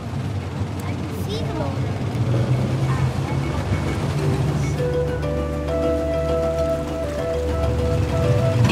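Boat motor running at sea off the Phi Phi Islands near Maya Beach, Thailand, a steady loud engine drone mixed with water rush and wind, with a tonal whine rising in the latter half.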